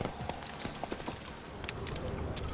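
Roach, a horse in The Witcher 3 on PlayStation 5, steps along in a steady run of close hoof clip-clops over a busy, noisy game background, with faint voice-like sounds in places.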